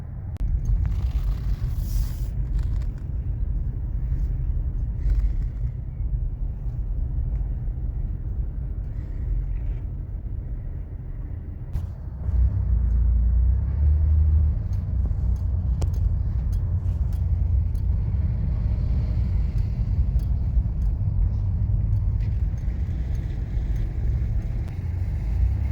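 A Buick 3800 V6 car with a newly replaced ignition control module drives along on a test drive, its steady low engine rumble and road noise continuous throughout, growing a little louder about halfway through.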